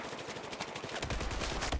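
Rapid automatic gunfire in a Battlefield 4 match, dense bursts of shots cracking back to back for nearly two seconds, loud and close with heavier booms near the end.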